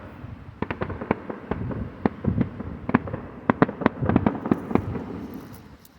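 Fireworks burst in a rapid string of sharp cracks and pops, a dozen or more loud reports scattered over several seconds, some doubled, with a rumbling wash of echo beneath them and no talking.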